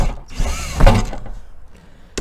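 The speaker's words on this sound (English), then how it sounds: "And then I should be able to break the seal to get the skylight out." An RV ceiling skylight being pried loose from its adhesive seal, a close creaking, straining crackle that swells to a peak, fades, then ends with a short sharp snap.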